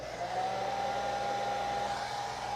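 A small handheld blow dryer runs steadily to dry acrylic paint on a canvas, an even whirring hiss with a faint high whine, close and continuous for a couple of seconds with no talk.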